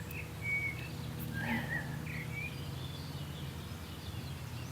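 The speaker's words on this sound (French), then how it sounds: "Je ne sais pas si vous entendez tous ces oiseaux qui sont en train de chanter" Several birds chirp and whistle in short, bright phrases over a low steady background hum, fairly distant and soft.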